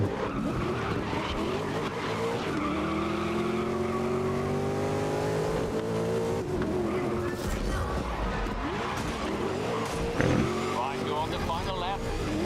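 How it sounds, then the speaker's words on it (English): Race cars in GRID (2019) roar with engines and tires squealing as they skid through a messy collision. There is a sharp thump of impact near the end. Engine noise stays loud throughout. "Well, to be fair, yes, it was a very messed up collision"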